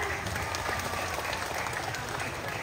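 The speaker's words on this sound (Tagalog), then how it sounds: "Kaya naman wala po bang palakpakan dyan?" Audience applause at a barangay fiesta beauty pageant, a dense, steady wash of clapping from a crowd that fills the whole stretch at even loudness.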